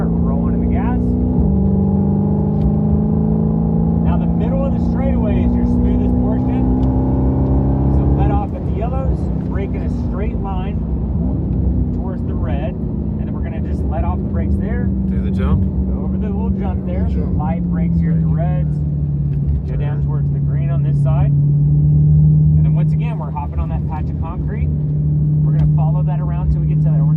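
Car accelerating hard around a cones-marked driving course on a ride-along, engine note rising and shifting through gears in sustained, loud roars while a person talks over it throughout.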